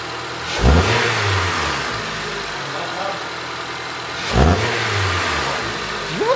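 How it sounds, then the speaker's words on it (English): An Acura TSX wagon with a K24 engine revs twice, each sharp throttle blip rising and falling back to a steady idle, close and loud with no intake fitted. "Give me a little rev."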